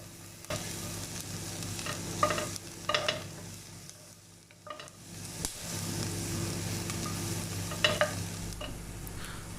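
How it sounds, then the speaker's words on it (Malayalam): Capsicum and celery are fried and stirred in a pan, with a steady sizzle broken by several scraping, clattering stirs of a utensil against the pan, close and moderately loud. "ക്യാപ്സിക്കം, സെലറി എന്നിവ ഇട്ട് ഫ്രൈ ചെയ്ത് എടുക്കണം."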